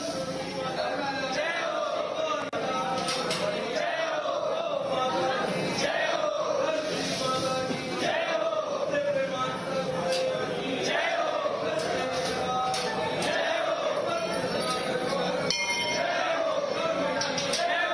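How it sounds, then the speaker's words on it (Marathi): A large crowd of devotees gathers at Mumba Devi temple in Mumbai on Gudi Padwa morning, with a constant dense murmur of voices, shuffling and occasional metallic clangs and bell-like dings running through the whole stretch. "मुंबादेवीच्या दर्शनासाठी भाविकांनी मोठी गर्दी केली"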